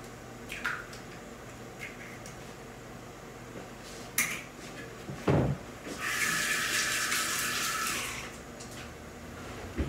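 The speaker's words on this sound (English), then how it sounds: "It's always good to rinse your hands after you've worked with eggs." A kitchen tap runs while hands are rinsed after cracking eggs for a batter, a steady hissing gush of water lasting a couple of seconds, preceded by scattered clicks and a thump, with no talking.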